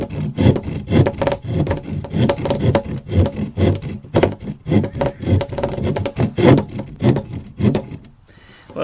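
A Camillus Carnivore X knife's saw edge cuts through wood in steady, rapid back-and-forth rasping strokes, loud and close, continuing for several seconds before easing off at the end.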